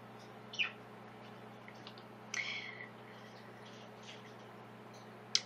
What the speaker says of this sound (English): Look a bird, someone commented, look a bird. A couple of birds, definitely.